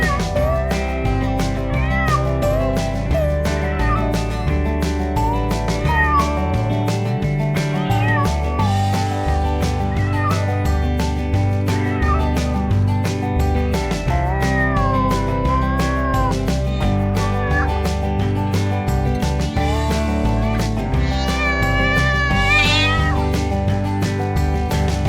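Cats and kittens meow again and again in varied pitches, loud and close, layered over continuous steady background music with no talking.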